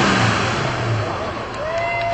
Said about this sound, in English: We have Mr. Eric Mohmeyer, the 1966 Mustang Fastback.